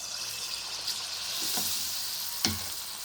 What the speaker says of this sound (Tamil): நாம் இப்போ போண்டாவை சுட்டு எடுத்துடலாம்.